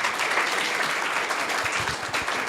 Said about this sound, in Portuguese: Queria uma salva de palmas para eles